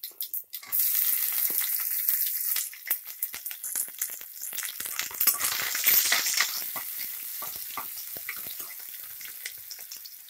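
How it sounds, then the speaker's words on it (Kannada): Garlic frying in hot oil for a bean sambar, a steady close crackling sizzle with scraping stirs, loud and continuous on its own. "ಬೆಳ್ಳುಳ್ಳಿ ಕಲರ್ ಚೇಂಜ್ ಆಗಬೇಕು, ಅಲ್ಲಿ ಗಂಟ ಫ್ರೈ ಮಾಡ್ಕೊಳ್ಳಿ"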